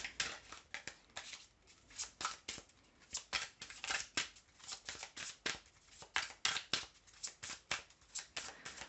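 Tarot cards being shuffled and drawn from a deck, a rapid series of crisp, papery riffles and flicks repeating steadily at close range, with no one speaking.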